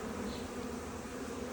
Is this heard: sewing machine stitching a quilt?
no